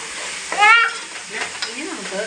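Turmeric powder being stirred into food frying in a pan for chicken-tapioca biriyani, a steady close sizzle with scraping stir strokes and a brief voice over it.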